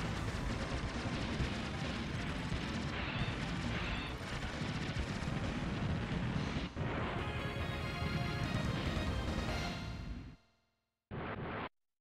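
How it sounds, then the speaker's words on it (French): Continuous heavy blasts and rumbling explosions from bombs in the arcade shooter game Aero Fighters, loud and sustained before cutting out, followed by a short final burst. "Encore une bombe."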